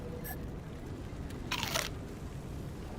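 A game character biting into a bar makes a crisp crunch, with a brief crackle followed by a louder crunching burst, over a steady background hum and with no voices.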